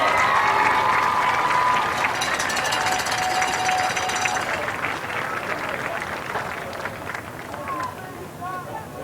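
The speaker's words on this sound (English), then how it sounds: "Please give them a big round of applause." Applause from a high school football crowd in a stadium, honoring senior players and their families; dense, sustained clapping and crowd noise fills the stands, tapering off toward the end with a voice audible over it.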